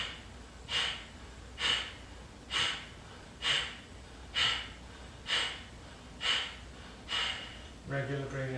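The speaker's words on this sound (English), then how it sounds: "And then we'll do one more round of Kapalabhati breathing." Kapalabhati yoga breathing: eight forceful, snorting exhalations through the nose, evenly spaced about a second apart and very close, followed at the end by a brief voiced sound.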